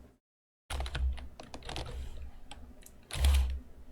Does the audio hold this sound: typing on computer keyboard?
yes